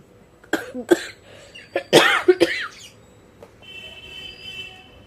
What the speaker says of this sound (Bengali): আজকে কাশিটা তো রয়ে গেছে